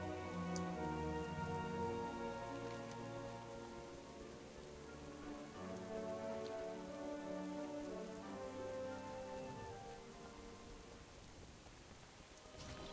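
Steady rain patters in World of Warcraft, a soft, even hiss of drops that continues through the whole stretch, with no talk and a layer of music underneath.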